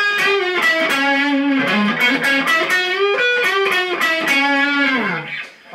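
Electric guitar played through a Marshall amplifier at low volume, giving a sweet, slightly distorted tone: a run of sustained melodic notes and bends lasting several seconds, close and alone, fading at the end.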